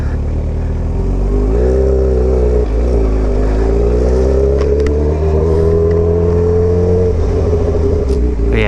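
A Yamaha R1 from a budget build that still needs work is ridden, its engine a loud, continuous drone close by that rises and falls in pitch as the throttle changes.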